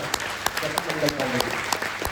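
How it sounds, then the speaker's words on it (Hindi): An audience at an address by a health minister to homeopathic doctors breaks into loud applause, with dense clapping and sharp individual claps standing out, while voices carry on underneath. "एक बार जोरदार तालियां।"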